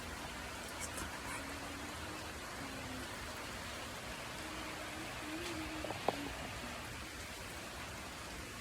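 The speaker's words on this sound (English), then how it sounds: "The longer you were out, the heavier the rain was getting." Steady rain falling outside, a faint, even hiss of drops continuing throughout with a brief soft tonal sound and a single sharp tap partway through.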